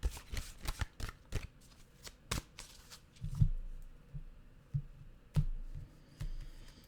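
Tarot cards are shuffled by hand in a series of crisp riffling bursts and soft flicks, close and fairly quiet, with no talking.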